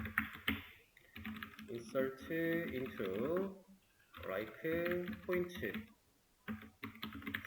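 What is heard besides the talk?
typing on a computer keyboard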